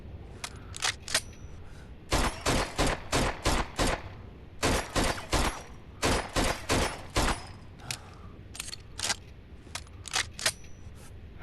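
Bursts of rapid gunfire from the video game ZOMBI crack out in quick repeated volleys, loud and close, separated by short pauses, with no talking over them.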